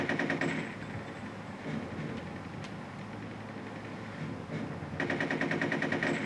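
Rapid automatic gunfire from the triple guns in the video game Conker's Bad Fur Day, a dense continuous rattle of shots that swells louder at the start and end, with no speech.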